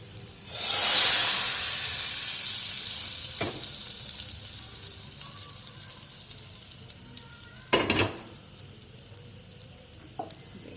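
Hot oil tempering poured over cooked dal for a quick home-style dal chawal, bursting into a loud sizzling hiss at first that slowly fades into a faint crackle, with a few sharp clinks afterward.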